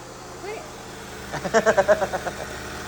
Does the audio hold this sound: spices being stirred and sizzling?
no